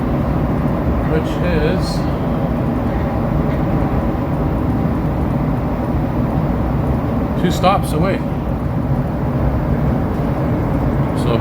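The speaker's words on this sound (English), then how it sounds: "So a short but sweet metro ride here on the Green Line." Montreal metro train riding the Green Line, a steady loud rumble and hum of the car in motion with occasional brief squeals, while people talk over it.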